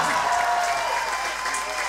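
Steady crowd applause at the 2018 Hyundai Archery World Cup recurve event in Berlin, a dense wash of clapping sustained for the whole moment with a faint voice mixed in.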